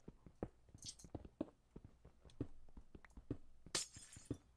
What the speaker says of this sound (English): I'm breaking a lot of andesite